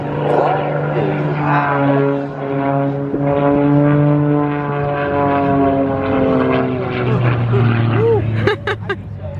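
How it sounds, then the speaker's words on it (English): An aerobatic propeller airplane at an air show climbs and runs out of airspeed, its engine droning loud with a sliding pitch that dips and rises as it maneuvers, while an announcer talks over the performance. "Continues to climb, running out of airspeed."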